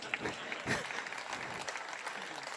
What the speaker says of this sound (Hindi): आप खुल के ताली बजा सकते हो, अब क्या डर है आपको?